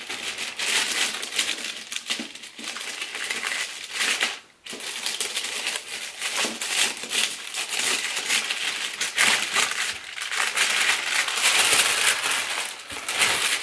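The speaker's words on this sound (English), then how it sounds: "let's see if I can carefully open this seal" Sealed packaging on a Louis Vuitton box being carefully opened: loud, close crinkling and crumpling of paper and plastic, continuous with crisp tearing bursts and a brief pause midway.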